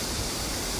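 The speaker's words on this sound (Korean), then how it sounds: "옆에서는 물이 아주 물 흐르는 소리가 요란하게 들립니다" A mountain stream in Suteagol valley rushes loudly nearby, a dense, steady roar of flowing water filling the brief moment without any other sound.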